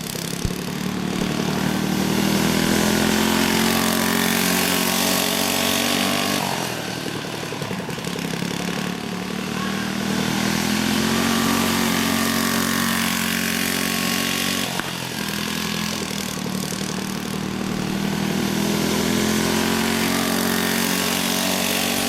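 Small backyard go-kart engine droning steadily through a time trial lap at an annual go-kart race, loud and continuous with brief dips as the kart passes or slows, no voices.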